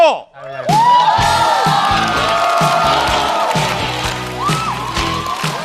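A live audience at a stand-up comedy show bursts into loud, sustained applause and cheering with whoops and shouts to welcome a new comedian, filling the room and holding steady throughout.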